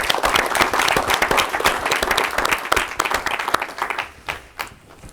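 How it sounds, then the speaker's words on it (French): A room of attendees claps for the event organizers, a full round of applause that holds strong, then thins out toward the end into a few scattered claps. "Je pense qu'on peut les applaudir."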